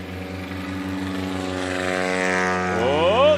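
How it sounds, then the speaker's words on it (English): A STOL propeller aircraft at a takeoff competition roars steadily and loudly, with rising engine harmonics as it powers through the takeoff run, growing slightly louder toward the end. "Austin Clemens now with a 204-foot takeoff."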